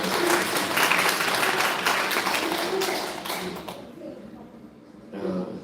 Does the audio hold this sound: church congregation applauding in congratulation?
yes